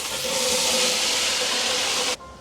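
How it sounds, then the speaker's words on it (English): Celery and onions hit a preheated pan coated in neutral oil, setting off a loud, steady broadband sizzle that holds strong for about two seconds before cutting off abruptly. "So you're gonna hear that it's already heated when this veg hits"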